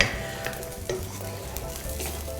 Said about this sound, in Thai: อันนี้เราก็เคี่ยวให้มันข้นนิดนึงนะครับก่อนจะใส่เส้นเฟตตูชินี่ลงไป